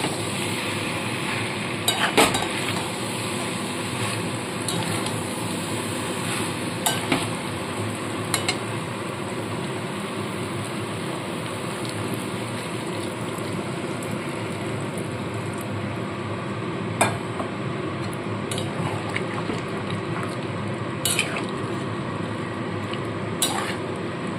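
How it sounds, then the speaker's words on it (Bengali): Mixed vegetable curry is stirred in a pan after water is added, giving a steady close bubbling and sizzling bed with scattered spoon scrapes and clinks and no speech. "একটু নাড়াচাড়া করে দিয়ে এবার এখানে আমি জল দিয়ে দেবো।"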